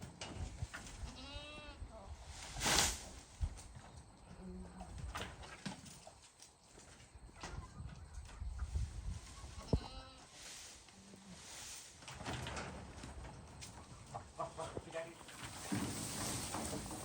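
Goats in a village bleat for feed with several loud, wavering calls spread across the scene, together with shuffling and hoof sounds nearby. People talk throughout.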